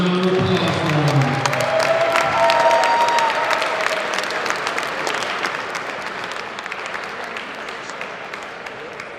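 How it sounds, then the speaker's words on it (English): Crowd applause and some cheering in a gym at a high school wrestling senior night, loud at first and gradually fading over several seconds. "Another round of applause for them."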